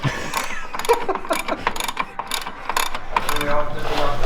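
Ratchet cranking rapidly while installing a front sway bar on a Can-Am Maverick X3, a close run of quick clicking pawl strokes in uneven bursts, with faint voices in the background.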